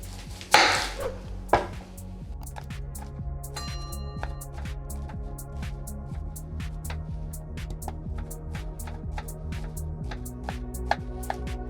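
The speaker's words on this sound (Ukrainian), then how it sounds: "Далі цибулю я нарізаю напівкільцями." A knife taps steadily on a cutting board in quick, regular chops, slicing an onion into half rings, close and fairly quiet, with a low hum underneath.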